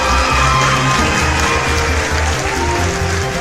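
Loud applause and cheering from a live audience greeting a contestant taking the hot seat at a Chhattisgarhi comedy show's Holi quiz segment, a steady dense roar of clapping with whoops throughout.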